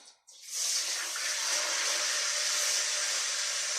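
Water pours steadily into a cooking pot, a close, continuous rushing splash that starts abruptly after a brief quiet moment and holds at an even level, with no talking.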